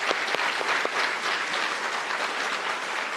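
An audience in a televised debate studio applauds during a discussion about energy, a dense, even clatter of clapping hands with a few sharper claps at the start, running steadily for about three seconds with no talk.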